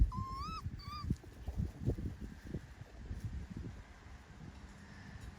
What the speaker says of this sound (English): These guys are like whiny.